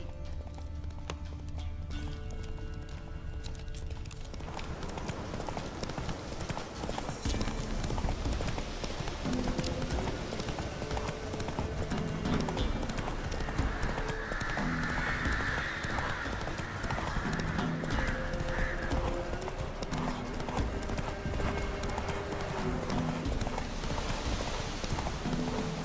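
Horse hooves clip-clop steadily on a road in The Witcher 3: Wild Hunt, a rhythmic trot joined by a brief whinny, with faint voices and game ambience underneath.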